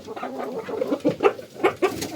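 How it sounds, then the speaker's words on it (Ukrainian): Chickens squabble in a backyard coop, giving a quick series of sharp clucks and squawks at close range, about half a dozen bursts in an uneven rhythm. "А ну, курки не битися, то ще що за курачі розборки?"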